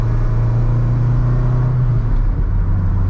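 A Honda Del Sol with a built B-series engine accelerates with a loud, steady engine drone heard up close. The tone holds, then shifts partway through.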